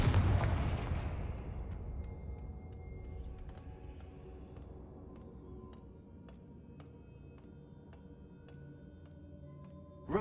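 A Confringo blast spell in a video game fires off as a heavy booming explosion at the start, then rumbles and decays into a long ringing tail with scattered faint metallic clinks and a small pop at the end.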